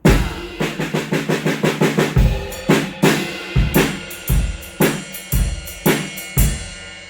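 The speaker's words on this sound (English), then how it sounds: "we play an accented figure on snare with the cymbal" Sharp accented snare hits with ringing cymbal crashes, starting with a rapid run of even strokes, then spaced accents with quick triplet fills between them.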